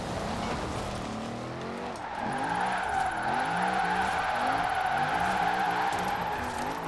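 A car in Forza Horizon 4 drives hard under heavy throttle, its engine note rising and falling in wavering sweeps as the tyres squeal and skid, loud and close throughout with no one talking.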